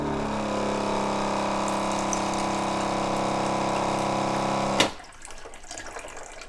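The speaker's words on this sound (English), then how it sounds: "I'm just going to add a couple more ounces of water." Filtered water from an Aquasana filter runs in a steady, even stream into an OXO cold brew coffee maker, then cuts off abruptly with a sharp click, leaving a quieter room hum.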